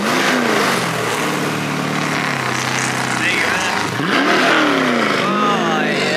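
A Corvette C6 revs hard in full drag mode at a car meet, engine pitch sweeping up and down loudly and close, with crowd chatter and voices running underneath throughout.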